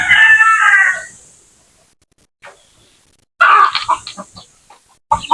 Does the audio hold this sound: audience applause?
no